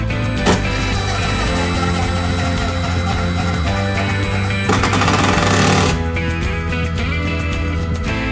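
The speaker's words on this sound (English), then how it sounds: "We use a drill to pre-drill this to make sure we don't split out the wood" A power drill pre-drills a hole in wood for a screw during a budget apothecary cabinet build, a loud continuous whirring drone with a brief harsher burst near the end.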